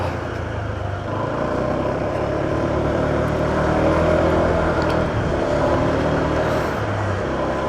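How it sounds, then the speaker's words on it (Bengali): Motorbike ridden along a road, a steady engine drone with road and wind rumble continuing throughout at close range, no voices. "আমি বাইক দিয়ে যেতেছি।"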